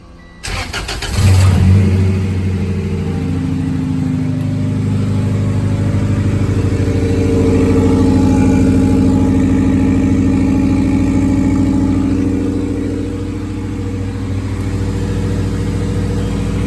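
A turbocharged B18 engine fitted in a VW Bug cranks briefly, catches and settles into a loud, steady idle with a strong low hum and slight waver, running close by for the rest of the clip.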